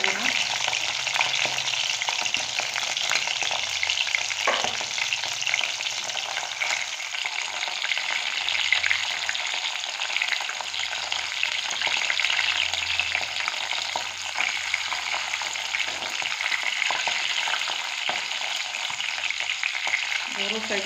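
Large salted prawns frying lightly in oil in a pan, a continuous close sizzle with occasional stirring, steady and fairly soft throughout.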